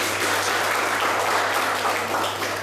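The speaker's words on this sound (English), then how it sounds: "Clap it up for yourselves." A room full of professional development participants claps in dense, sustained applause, loud and even throughout the short burst with no voices over it.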